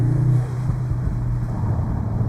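A deep, rumbling exhaust on a Cupra Formentor VZ with a 2-litre engine, idling and lightly revving, steady and close, with low throaty engine tones throughout.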